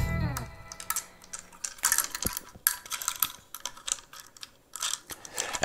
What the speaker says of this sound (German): Warte mal, ich mach die Schrauben mal fest.